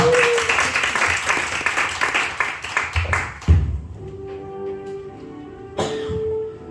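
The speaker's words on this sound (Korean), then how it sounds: "아름다운 목소리로 공연해주신 두 분에게 큰 박수 부탁드립니다." A seminar audience applauds after a two-person vocal performance. The clapping is dense at first, then thins into scattered claps before sustained musical tones take over.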